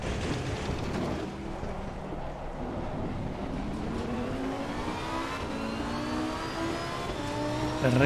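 Race car accelerating in the video game Assetto Corsa Competizione, engine note rising steadily through the gears with a sustained, close roar and a brief shift around the middle.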